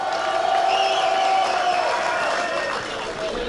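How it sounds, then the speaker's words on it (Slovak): Crowd at a dragon boat race event clapping and cheering to welcome visiting guests, a short, dense burst of applause with some tonal whistling or voices mixed in. "Přivítejte ich potleskem."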